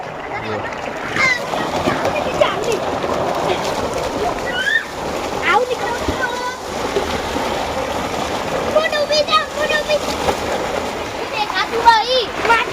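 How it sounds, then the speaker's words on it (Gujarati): Water from a running borewell pump gushes and splashes into a tank in a constant rushing wash, while voices talk over it throughout. "તો આપણે બોર ચાલુ થઈ ગયો અડધું પાણી કુંડીમાં આવે અડધું પાણી લાઈનમાં જાય"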